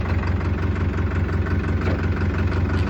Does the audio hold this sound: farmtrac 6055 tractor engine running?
yes